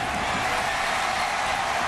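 Steady, dense roar of a stadium crowd at a 2008 college football game between South Florida Bulls and Central Florida Knights, cheering after a punt return; loud, continuous and distant-sounding, with no distinct individual voices.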